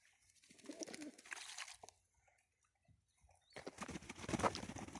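Pigeons coo softly nearby in short bursts separated by quiet gaps, with a faint flutter and splashes around them.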